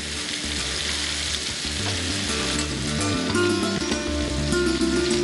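Bay leaves, whole black peppercorns and whole garam masala spices sizzle loudly and steadily in hot oil in a kitchen, with a continuous crackling fry under a tonal background bed.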